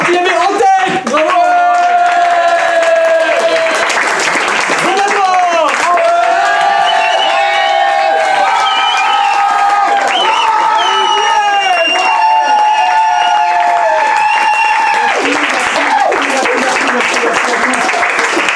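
An audience at a live stand-up comedy show bursts into loud, sustained applause and cheering that fills the room, with whoops and voices shouting over the clapping throughout.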